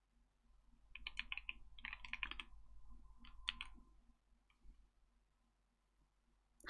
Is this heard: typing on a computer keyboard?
yes